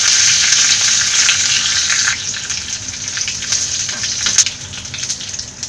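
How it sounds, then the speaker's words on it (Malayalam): Mustard seeds, cut dried red chillies and curry leaves frying in hot oil for a pineapple pachadi tempering, a loud, dense, close hiss and crackle that eases slightly, with a few sharp pops near the end. "എണ്ണ ചൂടായി വരുമ്പോൾ ഇതിലേക്ക് 1 ടീസ്പൂൺ കടുക് ഇട്ട് കൊടുക്കാം. 2 വറ്റൽമുളക് കട്ട് ചെയ്തിട്ട് കൊടുക്കാം."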